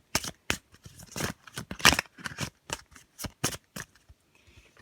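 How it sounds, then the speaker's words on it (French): A deck of witches' tarot cards is shuffled in quick riffling bursts, then single cards are drawn with soft slaps and flicks. The sounds are close and crisp, with short silent gaps between them and no voices. "nous allons prendre un arcane mineur de notre tarot des sorcières"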